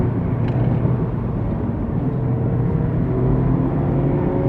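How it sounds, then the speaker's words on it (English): A Honda S2000's engine roars loud and steady as VTEC engages, with heavy road and wind rumble from a moving car on a country road, the drone holding constant without a break; no talk. "As soon as that VTEC opens, he just pulls away like crazy."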